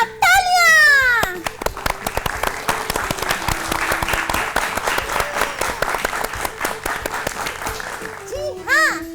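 Loud applause from a group of schoolchildren rewarding a correct quiz answer in a classroom show, sustained clapping for several seconds with children's voices and playful sound effects around it.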